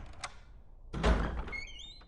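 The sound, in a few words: door opening sound, Resident Evil remake video game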